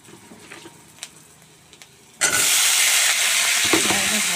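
Sliced potatoes and tomato hit a hot pan with onion and cumin, setting off a sudden loud, steady sizzle halfway through. Before it, only a few quiet clinks sound.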